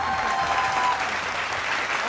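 A television studio audience at a Hindi interview show applauds steadily, a thick, continuous roar of many hands at constant level, with a faint voice briefly audible beneath it.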